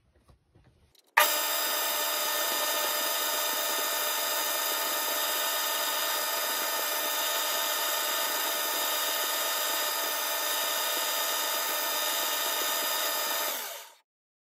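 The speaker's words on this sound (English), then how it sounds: "Now I'm parting off the cap from the guide." Brass lighter cap being parted off on a metal lathe, a steady, loud broadband cutting hiss with a sustained tonal whine that starts abruptly and runs continuously for about thirteen seconds before stopping, with no talking.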